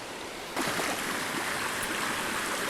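Creek water rushes through a canyon, a steady broadband flow that starts abruptly after a brief quieter moment and continues close and constant, with no talk.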